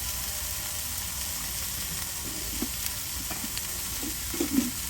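Spices and salt sizzle quietly in a hot pan with a constant crackling hiss, and a few soft stirring scrapes come near the end.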